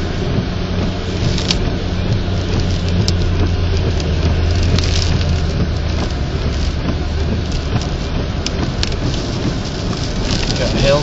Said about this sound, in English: got hailstones all over the ground here. Wind's coming across pretty quick.